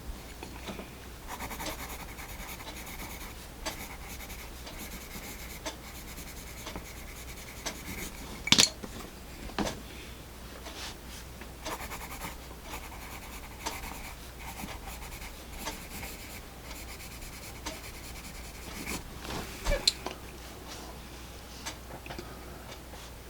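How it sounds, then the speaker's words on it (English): Staedtler Mars Lumograph graphite pencil, a drawing pencil in HB, B or 2B grade, writing on paper: soft, close, continuous scratchy strokes with faint ticks and taps, heard alone without talk. "they certainly are nice writing pencils"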